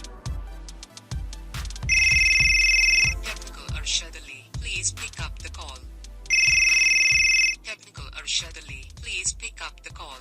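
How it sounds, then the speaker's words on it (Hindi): A custom name ringtone plays back on a mobile phone: bright electronic ring tones sound twice in long bursts, set between synthesized music notes and chopped voice fragments. "तो यहाँ पर मैं आपको चेक भी करा देता हूँ कि हमारी किस तरह की रिंगटोन बन चुकी है।"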